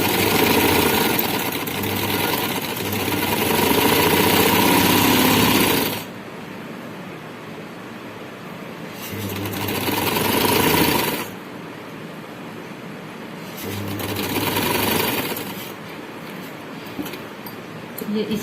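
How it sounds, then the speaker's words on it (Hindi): A sewing machine stitches a tulip shalwar in three loud runs of steady motor whir, each several seconds long, separated by quieter pauses while the fabric is repositioned. "तो चलें सिलाई लगाते हैं।"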